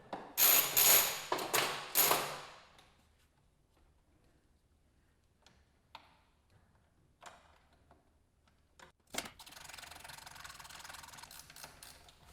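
A hex key loosens rotor cover bolts on a Honda Gold Wing up on a lift, with a loud burst of close ratcheting clicks at first, then sparse faint metallic taps and a soft rustle.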